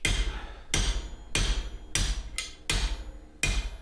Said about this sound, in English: you've got to grind the rivet off and get it driven out